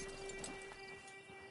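Horse hooves clop in a PS4 video game, a quick run of soft, close hoof beats over a steady electronic hum.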